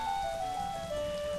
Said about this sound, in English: I get way too excited over the fact that they made it rain one day.